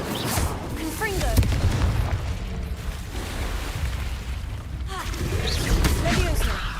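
Confringo fire spell explosions in Hogwarts Legacy, several booming fiery blasts with whooshing crackle, loud and close, mixed with game music and effects while a person speaks over them.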